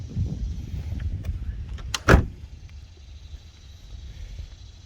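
A Rossion Q1 sports car door shuts with a single solid thunk midway, near and clear over quiet background noise.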